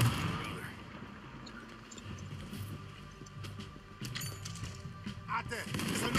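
Scattered gunshots crack amid a noisy game soundscape in Red Dead Redemption 2, irregular and somewhat distant, with voices talking over the action.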